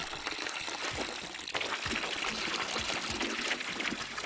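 Stout pours steadily into a fermenter in the beer-brewing simulator game Brewmaster, a continuous loud splashing, trickling stream that runs unbroken throughout.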